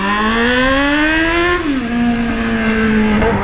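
A Yamaha XJ6 motorcycle engine with a 3-inch exhaust pipe revs loudly and climbs in pitch, drops briefly as the throttle eases, then holds a steady roaring drone from the exhaust.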